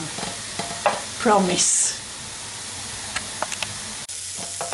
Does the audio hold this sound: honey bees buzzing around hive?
no